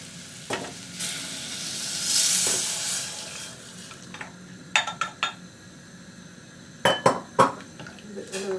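Spoon stirring carrot soup with stock in a pot on the stove, giving soft scraping and a few sharp clinks against the metal, with a gentle sizzle underneath.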